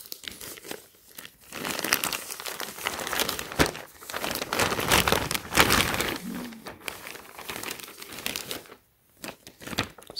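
Plastic packaging bag around a Supreme Raiders '47 tee and cap being cut open and crinkled, with loud, continuous rustling and tearing bursts up close over about ten seconds and a short quiet gap near the end.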